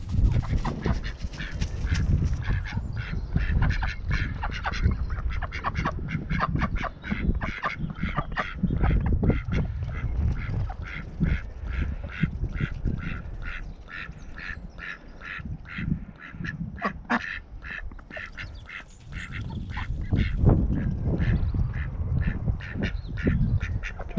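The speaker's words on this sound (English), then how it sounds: "Dirty ducks." A flock of ducks quacking loudly and continuously at close range while being fed at a muddy spot, with geese-like honks mixed into the dense chatter.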